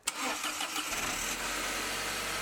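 An Audi/VW car engine cranks briefly and catches, then settles into a steady, close idle after a DIY CV axle repair, heard alone with no talking.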